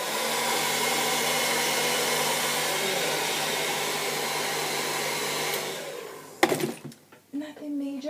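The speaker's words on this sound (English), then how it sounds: "And then take a blow dryer and just" Handheld blow dryer blowing steadily over hair weave tracks, a loud continuous airy roar for about six seconds before it cuts off, followed by brief handling noises and a voice.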